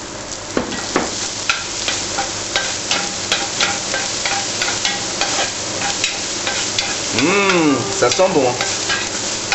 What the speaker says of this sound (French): je vais pouvoir faire revenir mon ail et le gingembre. Voilà, je les saisis, je les fais un petit peu rissoler